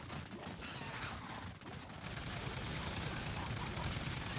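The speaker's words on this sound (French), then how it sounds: "ça donne évidemment une machine de mort, une mitrailleuse" A machine gun rattles off continuous rapid bursts in a zombie shooter game, dense and steady from start to finish, with faint background noise and no clear voices.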